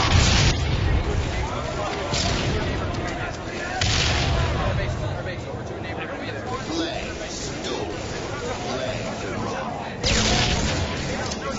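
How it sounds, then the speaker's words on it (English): Grenade blasts and gunfire in a Halo video game match at an MLG Toronto tournament, several loud booms and dense rumbling battle noise under continuous excited commentary and crowd babble. "the grenade took him down"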